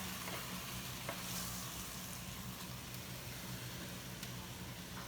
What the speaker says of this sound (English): That'll start sizzling because all that liquid's going to hit the pan